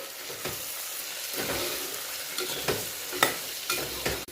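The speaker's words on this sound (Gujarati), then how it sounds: "સારી રીતે બધું જ મિક્સ કરી લઈશું" Khichdi being stirred with salt in a pan, a spoon scraping and turning the mixture in several irregular strokes over a soft steady sizzle, close and moderately loud, no voices.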